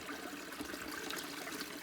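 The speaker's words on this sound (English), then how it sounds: "There's a little tiny waterfall happening. Could hear it, get some running water." Small trickling waterfall of running water beside a hiking trail on the Pennine Way, a steady broadband splash and babble heard close and alone, with no voices.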